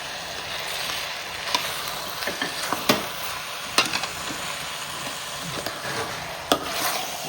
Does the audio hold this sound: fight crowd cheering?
no